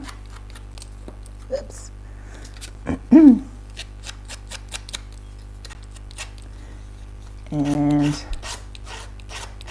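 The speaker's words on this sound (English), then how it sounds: "I'm sure you don't want to listen to the scraping of scissors" Scissors scrape along the edges of cut paper pieces while stamping succulent designs: faint, intermittent rasping strokes close by, with a short spoken interjection in between.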